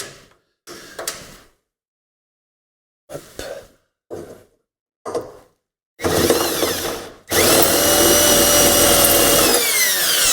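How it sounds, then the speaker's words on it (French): A power drill bores through a hole while a grey-water tank is fitted in a van, starting with short separate bursts and ending in two long, loud continuous runs. "Tu prends ça et tu perces à travers le trou."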